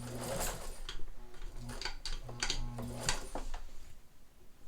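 A mint-condition Necchi Supernova Ultra zigzag sewing machine stitches forward, giving a close, rhythmic mechanical whir and clatter that pulses steadily for several seconds.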